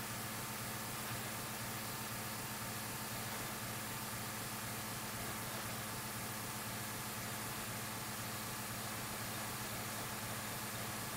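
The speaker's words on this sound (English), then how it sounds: "this diesel engine in this truck is more than enough torque to move it along, especially with a turbo" A truck's turbo diesel engine in the driving game The Long Drive hums steadily and evenly throughout, with a low, constant drone under broad, hissy noise.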